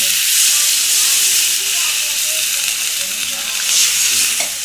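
Water poured into a pan of sizzling taro curry sets off a loud, close, rushing hiss and steamy sizzle that swells, dips slightly, then surges again.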